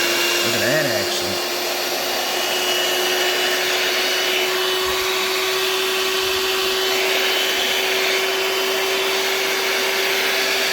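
A Redmond HM012 five-speed hand mixer runs continuously with a steady close motor whine and airy whir, loud and unbroken for about ten seconds, with a brief pitch wobble near the start.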